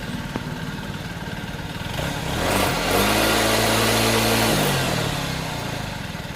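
A Yamaha Mio Z scooter engine, just fitted with a replacement fuel injector, fires up about two seconds in and settles into a steady, close idle with a brief rev, running alone without talk.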